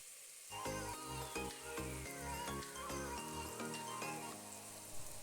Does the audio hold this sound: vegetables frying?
yes